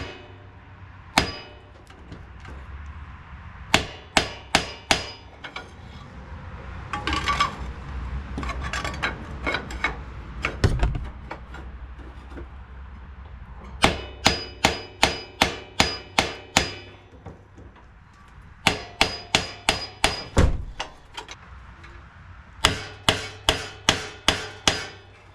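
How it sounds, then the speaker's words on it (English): Sharp metallic clangs of a hammer striking a crowbar wedged against a tractor flywheel, delivered in quick bursts of four to six hits with pauses between, loud and close, with some clanking and shuffling in the gaps. "I'm gonna try to get this crowbar in a spot, something like there, where I can get some leverage on the flywheel, and then give this a pretty good hit."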